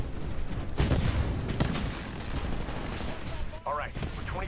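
Heavy Titan weapon fire in Titanfall on a small, chaotic multiplayer map, a dense, loud barrage of booming shots that keeps going for several seconds, with a brief dip near the end.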